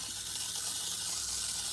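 A fertilizer injector on a strawberry drip irrigation system drawing solution into the line makes a steady, even hiss of rushing water and sucked air, close and continuous, with no talk.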